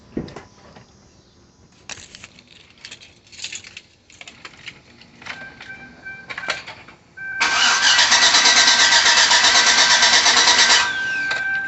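A 2005 Chevrolet Suburban Z71 with a no-start fault gives a few clicks and brief attempts, then cranks loudly and steadily for several seconds at close range before cutting off, with no talking.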